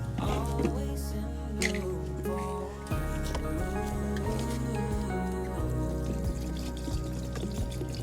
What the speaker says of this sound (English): And then just put a little bit of water in.